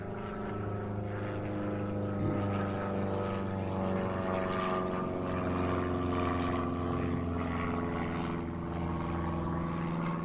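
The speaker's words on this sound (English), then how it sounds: "I'm just going to let this airplane fly overhead here." An airplane flies overhead during an outdoor police briefing, a loud, steady propeller drone with a low hum that stays constant for the whole stretch, with no talking.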